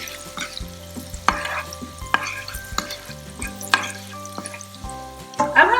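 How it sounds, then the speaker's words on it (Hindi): Turmeric powder frying in a pan with a poha chiwda mixture, giving a soft sizzle broken by repeated scraping stir strokes, with steady tonal background music running underneath. "अब मैं इसमें 1 चम्मच हल्दी पाउडर ऐड करके इसे अच्छा सा फ्राई कर लूंगी"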